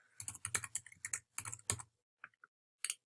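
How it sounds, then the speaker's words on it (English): Typing on a computer keyboard while entering a password and email address: quick, close, crisp keystroke clicks in bursts, then a pause and a few isolated taps. "I'm going to type the password and the email address"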